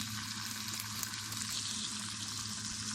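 Chicken pieces sizzle and fry steadily in a hot pan, a continuous crackling hiss with faint stirring scrapes, close and with no talking.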